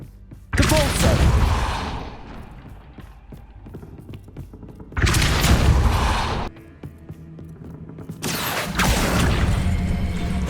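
Depulso spell cast in the video game Hogwarts Legacy during a boss fight, three loud bursts of broadband magical blast noise separated by quieter game ambience.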